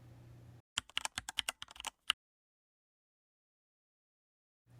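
Typing on a Gamakay SN75 mechanical keyboard: a quick burst of about a dozen crisp, close keystrokes with a final louder clack, then silence.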